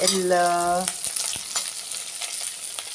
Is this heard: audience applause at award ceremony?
no